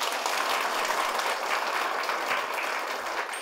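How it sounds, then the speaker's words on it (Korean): Steady, dense applause from a large studio audience at a Korean Christian talk concert fills the whole stretch, loud and even without pause. "박수로 맞아주시기 바랍니다"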